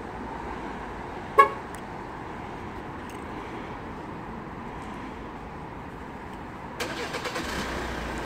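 A Hyundai Tucson ix starts remotely through a Magic Car alarm: a short chirp early on, a steady quiet hum, then the engine catches and settles into a low idle near the end.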